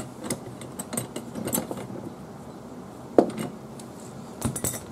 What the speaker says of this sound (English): Sometimes them wrenches just don't want to let go.